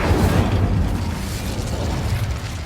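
The Incendio fire spell cast in Hogwarts Legacy erupts as a loud, booming burst of flame that roars steadily for a couple of seconds without fading, with no voices over it.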